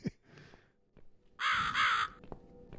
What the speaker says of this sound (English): Hi, Mr. Crow.